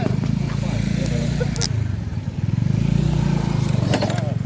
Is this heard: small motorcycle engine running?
yes